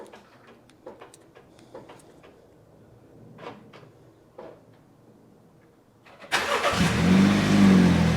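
A Mini Cooper fitted with a Bimmertech remote start sits quiet with a few faint clicks and ticks, then its engine cranks and fires at about six seconds into a loud, steady idle.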